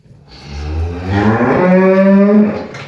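A dairy cow, a gentle milking cow for sale on a farm, lets out one long, loud moo close by that swells and sustains for nearly three seconds, with no talk over it.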